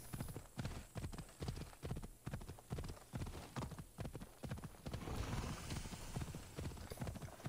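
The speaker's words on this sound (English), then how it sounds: "We're riding a horse." Horse hooves clip-clop in a steady, rapid rhythm as a mount is ridden in the video game Assassin's Creed Odyssey, continuous and fairly loud throughout.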